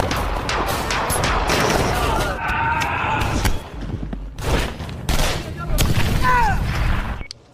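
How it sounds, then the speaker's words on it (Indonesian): A movie firefight with bursts of gunfire and booming impacts, loud and dense, with a voice talking over the shooting. "sehingga terjadilah baku tembak"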